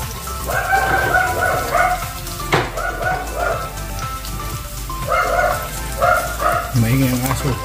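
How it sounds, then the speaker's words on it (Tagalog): A dog barks repeatedly in short bursts, fairly close, over a background of sizzling from onions frying in a kitchen and some faint talk. "Maingay ang aso."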